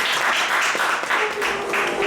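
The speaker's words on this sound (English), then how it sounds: "applause for her" An audience at a coaching talk gives a brief burst of clapping, moderately loud and uneven, with a faint tone running underneath.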